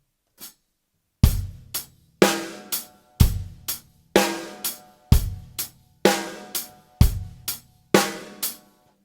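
An acoustic drum kit plays a straight eighth-note groove alone, close and loud, with evenly spaced kick and snare accents under crisp cymbal strokes repeating steadily for several bars.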